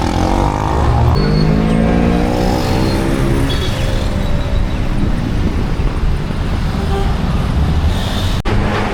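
Loud buses roar through busy San Salvador city-centre traffic, a heavy, close engine rumble with a rising and falling whine as a vehicle passes, over constant road noise and wind.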